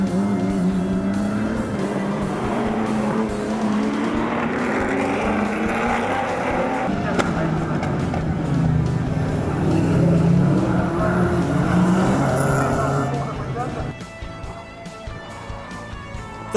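Deep, throaty V8 race car engines rumble and rev nearby at a motorsport festival race meeting in Waimate, New Zealand, pitch shifting as cars pass, fading toward the end.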